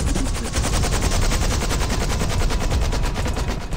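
A helicopter flies in the GTA RP video game, a loud, dense, continuous rotor chop with a rapid rhythmic thumping that dominates throughout, with no talking.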